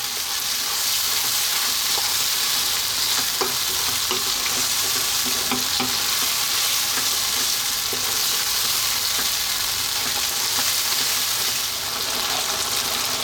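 Tuna pasta sauce sizzles hard in a pan over high heat, a steady loud frying hiss with scraping stirring clatter running through it, no voices.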